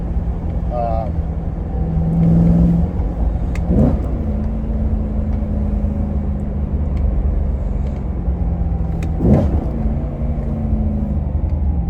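Engine of a BMW E90 M3 swapped to a six-speed manual, a steady close cabin drone with a couple of brief throttle blips rising and falling, with someone talking over it.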